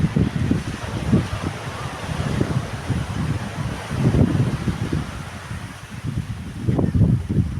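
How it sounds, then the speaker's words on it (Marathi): Blustery wind buffets the microphone while ocean waves wash in and recede on a sandy beach, a continuous rolling roar rising and falling in soft surges with no voices. "वारं भरपूर आहे लाटांचा आवाजही छान आहे"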